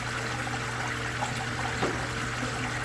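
Water pours steadily from a tipped 4.5-liter aquarium tank, a continuous, even trickle heard close and alone with no talking.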